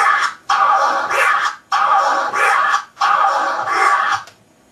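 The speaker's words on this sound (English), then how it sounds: "this is going to be the basic record movement, just back and forth" A DJ turntable record is scratched back and forth by hand in a basic motion, giving about four long, continuous whooshing sweeps close up with brief gaps between them and no voices.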